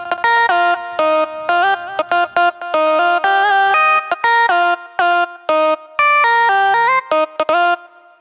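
Bright synth vocal lead, drenched in reverb and delay, playing a choppy stepping melody of short sustained notes with gaps, loud and alone without talking.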